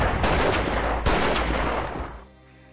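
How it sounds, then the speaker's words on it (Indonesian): Gunfire in a film scene as a corrupt police chief is shot, with loud broadband blasts at the start and near the one-second mark over a sustained noisy action bed that drops away to quiet near the end. "Max berhasil menembak si ketua polisi korup tersebut"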